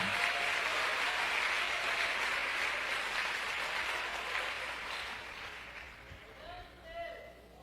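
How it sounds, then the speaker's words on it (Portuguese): A church congregation breaks into loud sustained applause, the dense clapping slowly thinning and fading toward the end. "Você consegue aplaudir ao Senhor pela sua palavra agora?"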